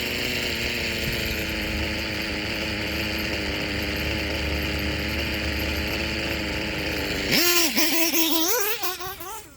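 A Dragon D21B nitro RC engine screams at high revs, then rises and falls sharply in pitch as the throttle is blipped, loud and close.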